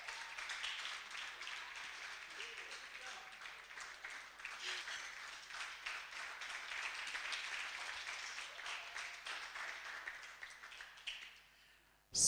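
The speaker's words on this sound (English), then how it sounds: "Let's clap for them." Quiet, distant audience clapping at a Hult Prize competition event, an even patter of many hands that continues for about twelve seconds before fading out.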